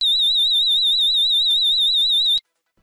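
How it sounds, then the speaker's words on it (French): A loud, steady electronic alarm tone from a Diagral alarm control panel warbles rapidly for about two and a half seconds, then cuts off abruptly into silence. "le niveau d'alarme pré-alarme forte qui déclenche la sonnerie de la centrale en puissance pendant 15"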